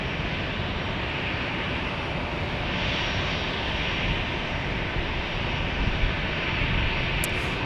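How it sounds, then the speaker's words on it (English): United Airlines Boeing 737 at San Diego airport, a continuous broadband jet engine roar holding steady and loud throughout, with no voices. "We're going to Houston on this United Airlines 737."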